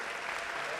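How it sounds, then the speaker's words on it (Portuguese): A church congregation applauds at a Sunday celebration service honoring a couple married 61 years, the clapping dense, steady and loud throughout, a continuous wash of many hands. "Vamos aplaudir essas pessoas"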